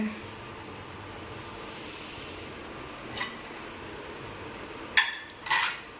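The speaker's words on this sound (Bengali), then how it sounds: "এই যে এগুলো সব কালকের বাসন, এগুলো সব এখন আমি গুছিয়ে নেব।" Quiet clinks and knocks of dishes being handled, then a couple of sharper clatters as pieces are set down and stacked.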